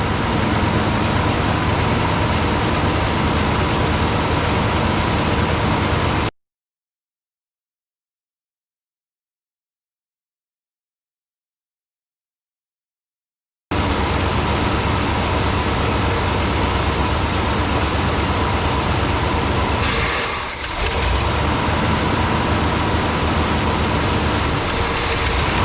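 A carburetted engine labors and stumbles from fuel starvation, running as a steady, close, rough drone with a sudden silent break midway before the same strained running resumes, and no talk.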